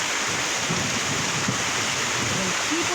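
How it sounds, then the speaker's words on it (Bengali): Heavy rain pouring down in a village during a thunderstorm, a loud steady roar of rainfall with faint low rumbles underneath. "কি পরিমাণ বৃষ্টি নামতেছে"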